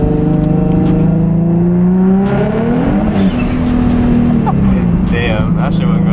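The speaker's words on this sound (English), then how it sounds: "Should I cook these tires real quick?" A 700-horsepower Nissan Nismo with a new clutch does a burnout, its engine roaring loudly and close as the revs climb, dip and climb again, with tires spinning under the sustained drone.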